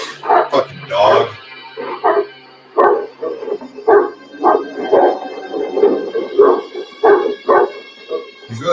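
A dog barks and yips repeatedly in short, rhythmic bursts, loud and close, with a brief whimpering howl at the start and people talking over it.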